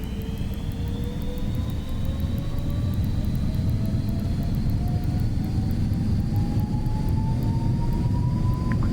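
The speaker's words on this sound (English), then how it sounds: "When we speed up this thing down the runway, we'll make it a rolling takeoff on runway 36 here." Steady jet engine roar of an airliner on a rolling takeoff down runway 36 in Microsoft Flight Simulator 2024, a continuous loud rumble with a slowly rising whine over nine seconds.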